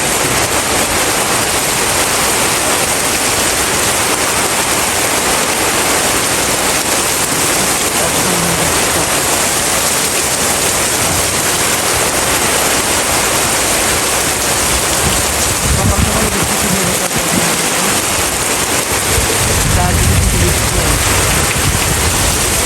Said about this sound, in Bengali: প্রচুর বৃষ্টি দেখেন একদম রিমঝিম বৃষ্টি রিমঝিম না অঝড় বৃষ্টি